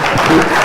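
Audience clapping at the ceremony handing over a Confucius Institute building to the University of Nairobi, a brief burst of dense, steady applause.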